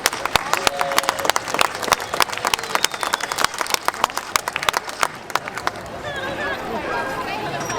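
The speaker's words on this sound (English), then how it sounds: "they need a bigger round of applause than that" Crowd at an apple festival parade claps outdoors, sharp individual claps close by over a broader round of applause, with chatter and street noise rising as it winds down.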